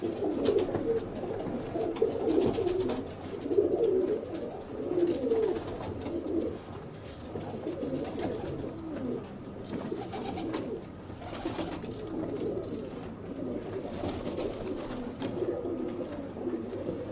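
Show pigeons coo repeatedly in low, throaty phrases, overlapping at close range for a long stretch with a faint background hum and no talking.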